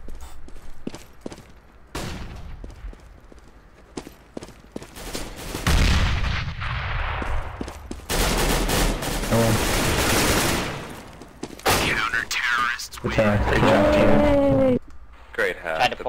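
Video game gunfire in CS:GO, with bursts of rifle shots and loud sustained firing in the middle, mixed with game sounds and short spoken remarks from players.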